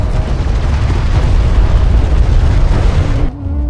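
Hostile armored vehicle exploding in Homeworld: Deserts of Kharak: a loud, sustained rumbling blast with heavy low-end boom that cuts off abruptly near the end, with no talking.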